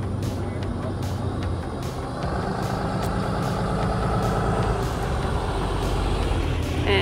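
An RV truck idles steadily with a low, continuous engine rumble throughout, joined by a few short air-brake hisses, close and loud, with faint voices in the background.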